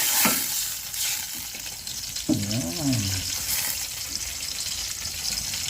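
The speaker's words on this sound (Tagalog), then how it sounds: "Yan mga kabayan, kumukulo na po." A pot of soup boiling, bubbling and sizzling steadily up close, with a brief voice-like hum in the middle and faint kitchen clatter.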